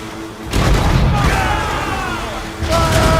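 Ship cannon fire in Assassin's Creed Rogue: loud booming volleys, one rising near the start and another later, rumbling through a busy battle mix while a voice shouts underneath.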